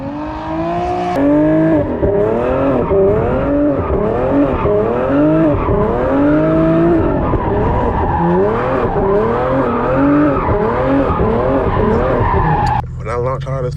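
A rear-wheel-drive Infiniti G37 launches hard, its engine roaring close and loud while the tires squeal and skid in repeated rising, wavering bursts that carry on almost without a break.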